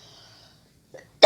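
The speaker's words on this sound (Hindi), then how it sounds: "सॉरी, बहुत खांसी हो रही है" A single short, sharp cough from a teacher bursts out at the end after near silence and a faint breathy catch, loud and close.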